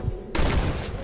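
Rapid gunfire in the Western shooter Red Dead Redemption, a quiet moment with a low rumble broken by a loud burst of overlapping shots that carries on as a sustained volley.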